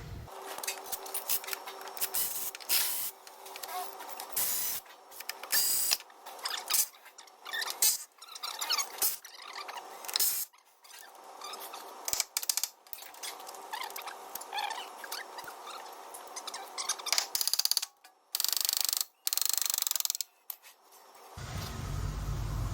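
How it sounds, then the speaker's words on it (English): A ratchet works loose the gearbox bolts on a Toyota Hilux during a clutch replacement, sending out rapid, close-up bursts of clicking and scratchy metal rattles between short pauses, with no voices heard. "And we're going to undo them where they go directly into the gearbox."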